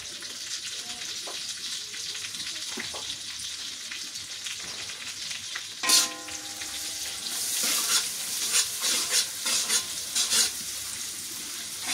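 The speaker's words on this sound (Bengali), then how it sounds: "পেঁয়াজ কুচিগুলো দিয়ে দিলাম।" Chopped onions dropped into hot oil in a wok, a steady loud sizzle and crackle of frying that swells near the middle and continues with bursts of spattering through the rest, with no talking.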